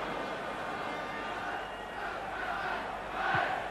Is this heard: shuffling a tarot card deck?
no